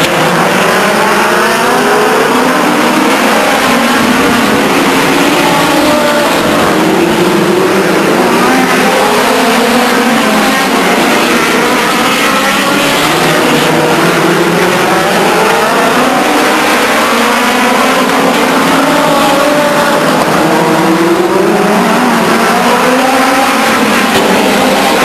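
Race cars circling Stockton 99 Speedway, loud engines rising and falling in pitch as they pass, with a continuous roar and repeated revving sweeps throughout.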